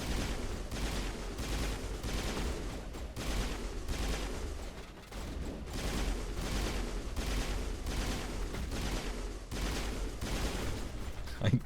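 Rapid, rhythmic bursts of gunfire in Mass Effect keep hitting the krogan squadmate Rex, with dense repeated shots running steadily throughout at fairly constant loudness.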